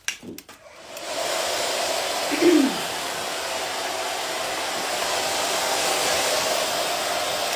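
A hair dryer blows steadily on a woman's hair during a short layered haircut, after a few brief clicks and a short surge as it starts; loud and close, running alone throughout.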